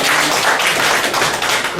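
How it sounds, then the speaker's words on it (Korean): Lecture audience applauding at the end of a talk on Jeju history, a dense, steady wash of many hands clapping that fills the whole moment without pause, with no voices rising above it. "네, 다시 한번 큰 박수 부탁드리겠습니다"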